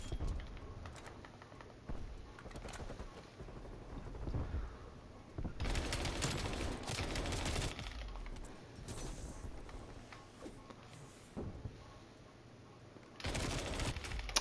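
Bursts of automatic gunfire in Call of Duty: Black Ops Cold War, several rapid volleys of moderate loudness with game ambience between them.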